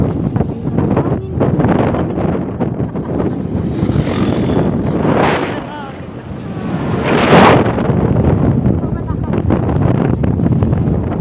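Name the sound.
wind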